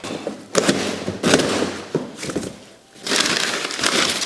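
Packaging from an aluminum fuel tank kit for an EFI conversion crinkles and rustles in several close, uneven bursts as it is unboxed, with brief quieter gaps between.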